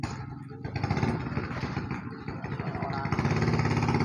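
Motorcycles pass along a busy roadside, their rough engine drone rising and swelling toward the end, with mixed street noise layered underneath.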